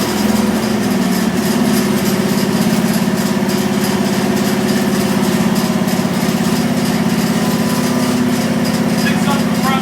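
Small single-cylinder engine on a Wheel Horse C garden tractor with snow thrower, restarted and settling into a steady, loud, close idle that chugs evenly throughout.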